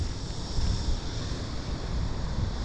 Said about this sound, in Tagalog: Tapos medyo mahangin din po.